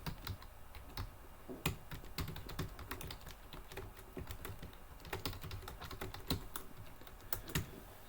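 Steady typing on a computer keyboard, with irregular bursts of close, crisp key clicks and a few louder keystrokes, heard alone with no talking.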